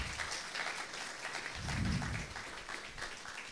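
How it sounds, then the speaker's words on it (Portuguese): An audience at a judiciary union congress panel gives a dense, steady round of clapping from a crowd, moderately loud and continuous throughout. "Palmas."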